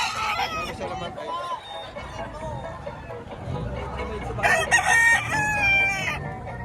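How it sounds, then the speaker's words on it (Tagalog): Roosters crowing repeatedly at a Padre Garcia, Batangas fowl market where ten-month-old gamecocks are offered for sale, loud harmonic calls rising over a steady babble of voices and someone talking nearby. "Magandang manok."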